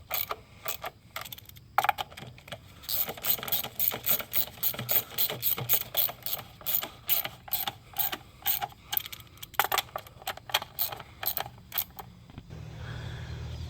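A ratchet clicks in quick bursts while snugging valve cover bolts on a Chevy Cruze LS 1.8L engine, with rapid pawl clicking repeated close up and steadily, pausing briefly between bolts.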